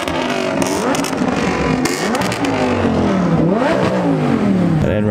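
A very loud Mustang with a flame-spitting exhaust revs hard repeatedly, engine pitch sweeping up and down in close, sustained roars with crackling pops between revs.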